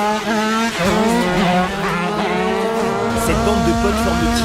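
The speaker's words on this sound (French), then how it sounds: "on passe la moto au banc d'essai chez MK Moto" A tuned 96cc motorcycle engine runs hard on a dyno bench, loud and close, its pitch rising and falling in sweeping revs with a raspy, buzzing tone throughout.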